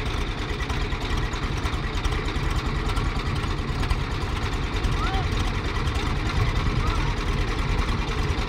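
A Swaraj tractor engine labours up a steep slope in low gear, a steady rumbling drone running throughout at close range, with shouting voices over it.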